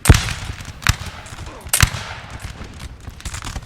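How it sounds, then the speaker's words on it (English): Three sharp cannon reports from a 12-pounder artillery piece in the Napoleonic battle game Napoleon: Total War, spaced about a second apart over a low background of battle noise and distant musketry. "They're firing their 12-pounder right down this line here."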